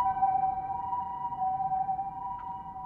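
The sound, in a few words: ambulance siren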